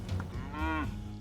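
A single drawn-out cow moo rises and falls over about half a second, fairly close and clear, from a herd of cattle out on grassy pasture, with no talk.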